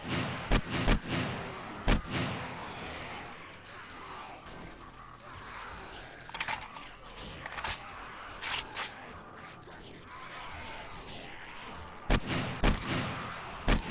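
Gunfire in the zombie survival game 7 Days to Die, with several sharp, loud bursts of shots clustered at the start, in the middle and near the end, separated by quieter stretches.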